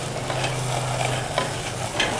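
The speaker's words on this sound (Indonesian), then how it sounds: "Ini terus kita aduk-aduk sampai airnya mengering." Date and banana pie filling is stirred in a hot pan as its liquid cooks off, giving a steady soft sizzle with faint scraping strokes of a spoon throughout.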